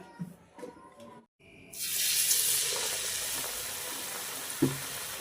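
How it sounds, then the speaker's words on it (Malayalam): Murukku dough dropped into boiling oil, a few quiet clinks and taps first, then a sudden loud hiss that settles into a steady bubbling sizzle, with one clunk near the end. "ഇനി ഇതിന് നമുക്ക് നല്ല തിളച്ച എണ്ണയ്ക്കകത്തിട്ട് വറുത്ത് കോരി എടുക്കണം"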